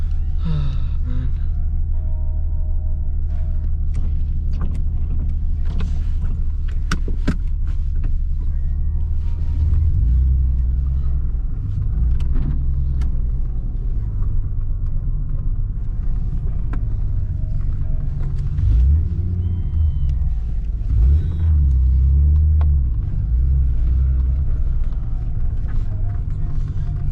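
Nissan 300ZX Z32 on a street drive, a continuous deep engine drone and road rumble heard from inside the cabin, loud and steady with occasional low surges and a few faint clicks.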